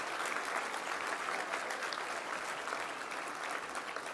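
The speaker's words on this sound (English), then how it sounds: "Let's give him one more big round of applause." Audience at a luncheon giving sustained, dense applause for the US Army Chorus, an even, steady clapping that fills the room with no voices on top.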